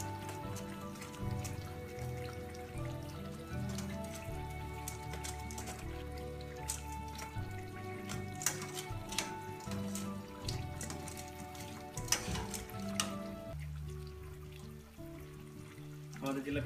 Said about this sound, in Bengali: আমাদের জিলাপি প্রায় ভাজা হয়ে গিয়েছে